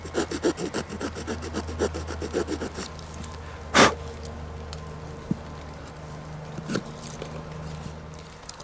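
A hand saw cuts a stop cut into a wooden branch for field stakes, with a steady run of close, rhythmic rasping strokes that fade into quieter scraping and a few scattered knocks.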